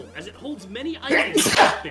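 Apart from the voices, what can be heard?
sneeze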